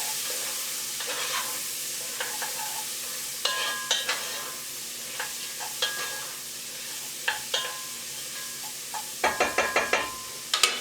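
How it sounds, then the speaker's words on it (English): A spoon stirs wilting greens into a pot of 15 bean soup over steady, close sizzling, with repeated scraping clinks against the pot that become a quick flurry near the end, and no talking. "Stir it around a little bit. Just let them wilt."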